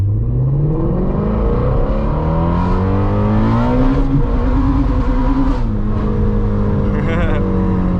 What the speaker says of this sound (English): we'll go ahead and hit a first gear downshift and do a pull coming up right up over here